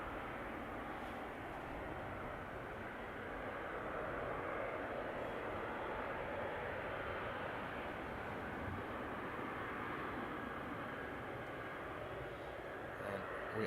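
Qatar Airways Boeing 777 in FIFA World Cup livery at Amsterdam Schiphol: a faint, distant, steady jet engine rumble and hiss that continues throughout, with no clear voice over it.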